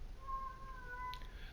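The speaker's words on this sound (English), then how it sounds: "The cat is in the background meowing." A house cat meows faintly in the background, one drawn-out tonal cry rising and falling over a quiet room hiss, alone without talk.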